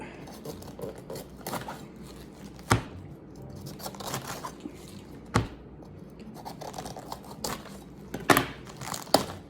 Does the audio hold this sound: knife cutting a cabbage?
yes